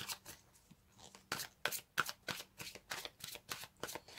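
Oracle cards shuffled and drawn by hand, a quick rhythmic run of crisp riffling and flicking slaps, close and fairly quiet with no talk.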